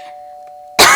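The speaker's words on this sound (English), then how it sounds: "I reluctantly press the doorbell and wait." A doorbell in a story-driven dating video game is pressed. A faint tonal hum comes first, then an abrupt, loud burst near the end.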